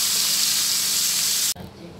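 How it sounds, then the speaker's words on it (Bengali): Bombay duck fish sizzle steadily in hot oil for about a second and a half, a loud broad frying hiss that then cuts sharply and drops to a quieter, thinner sizzle. "এমনি করে একটা একটা করে সব কটাকে আমি ভেজে নেব।"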